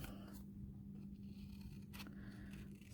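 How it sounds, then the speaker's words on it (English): Scissors fussy cut a paper flower close up, giving faint scraping snips over a steady low background hum, with one sharper crisp cut near the end. "the last thing that we want to do is to fussy cut this flower out"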